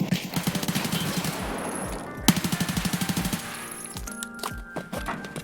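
Sustained automatic fire from a G36 rifle in the shooter game Escape From Tarkov, two fast, even bursts of rapid shots with a brief pause between, followed by metallic clinks and handling noises.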